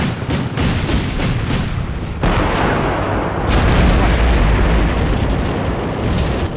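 A tank gun in Combat Mission Black Sea fires with a series of sharp booms early on, followed by a heavy rolling blast and sustained rumble that fills the rest.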